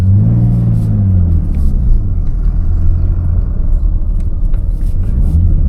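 A Nissan Skyline GTS X HR31 sits in the staging area at a Victorian hillclimb championship round, its engine idling with a loud, deep, steady rumble close by and small rises in revs throughout.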